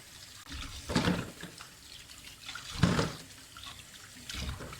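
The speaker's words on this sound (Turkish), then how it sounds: "4-5 su yıkayacağım. Teker teker hepsini yıkayacağım." Pumpkin pieces are washed in water, giving three soft swishing surges of sloshing water against a low steady background, close and fairly quiet with no talk.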